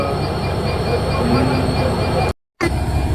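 A train pulls away from a Bangladeshi station toward Dhaka with a loud, continuous rail rumble and faint wheel squeal, nearby, cut by a brief dropout before the rumble returns; voices sound faintly beneath.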